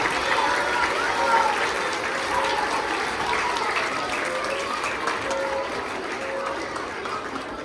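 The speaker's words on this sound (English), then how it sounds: "We give a round of applause" Steady applause from a crowd, a dense wash of many hands clapping continuously for several seconds with some voices mixed in.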